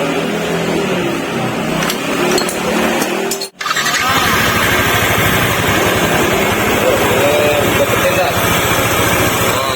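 A Yamaha NMAX scooter engine, now running smoothly, idling steadily and close, a smooth continuous hum with a brief dip partway through.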